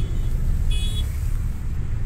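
Vehicles stand in a traffic jam on a road in Jammu, with a steady low rumble of idling engines close by and a short car horn toot partway through.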